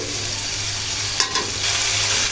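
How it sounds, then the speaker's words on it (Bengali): Spices and salt sauté in oil for boal fish curry with tomato and peas, a close, even sizzle with a couple of brief scraping stirs. "লবণগুলো যোগ করে নিলাম ভালো করে কষে নেব মশলাগুলো"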